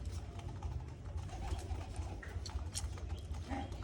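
Pigeons coo softly in a small backyard loft, low repeated murmuring calls under a faint steady hum with a few light chirps.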